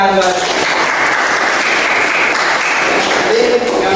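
An audience at a classroom teaching session breaks into sustained, dense clapping that holds steady and loud throughout, with a voice briefly audible in the mix.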